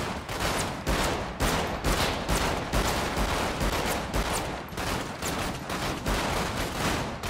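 Heavy gunfire in a GTA 5 roleplay session pounds almost continuously, loud and close, with overlapping shots and brief dips between bursts.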